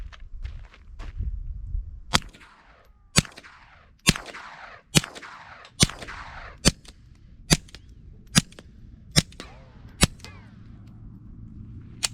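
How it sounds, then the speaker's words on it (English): A .22 rifle fitted with a SilencerCo Sparrow 22 suppressor firing suppressed and supersonic rounds outdoors, about a dozen sharp cracks spaced roughly a second apart, some louder and snappier than others, each trailing a short echo. "We're going to go ahead and shoot some rounds. You let me know when the suppressed rounds kick in and when the supersonics are."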